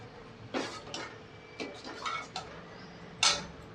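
A pot of sweet ragi porridge is set back on a stove: a handful of sharp metallic clinks and knocks, scattered over a few seconds and closing with one louder clatter, heard close in a quiet kitchen.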